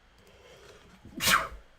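A single sharp sneeze bursts out after a quiet, low murmur, loud and close, then quickly fades.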